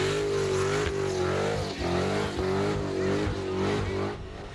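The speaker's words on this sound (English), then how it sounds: "Now the burnouts go down here in the high desert of the Antelope Valley." Car engines roar and rev hard during burnouts at a street sideshow in the high desert of the Antelope Valley, a loud sustained drone with repeated surging pulls.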